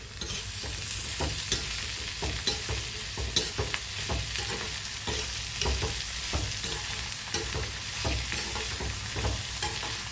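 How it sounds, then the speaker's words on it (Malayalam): Small shallots and curry leaves frying in hot oil for ulli theeyal: a dense, close crackling sizzle with frequent scraping stirs and clicks throughout, loud and continuous, with no voices. "കൊച്ചുള്ളി ഇട്ട് കൊടുക്കാം കേട്ടോ. ചെറിയ ഉള്ളി, വേപ്പിലയും കൂടി അതിൻ്റെ കൂടെ ഇടാം."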